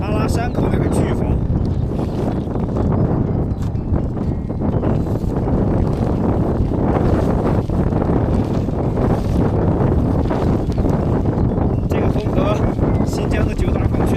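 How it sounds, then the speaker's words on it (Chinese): Strong, steady wind of around force 5 to 6 roars past a mountain road near Long County in snowy Shaanxi, a loud, unbroken rush of buffeting air that fills the whole stretch. "今天这个风还不算特别大，这个风也就5、6级"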